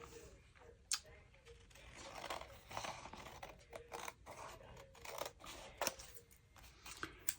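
Sheet of vellum paper being cut for a pocket in a quiet craft setting, with faint, irregular snips and soft paper rustles close by.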